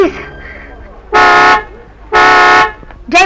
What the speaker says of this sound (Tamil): ஹார்ன் அடிச்சு அவளை கூப்பிடுங்க ப்ளீஸ்.